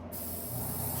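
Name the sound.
airbrush spraying paint for realistic flames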